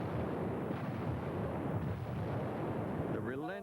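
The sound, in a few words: battleship 16-inch guns firing bombardment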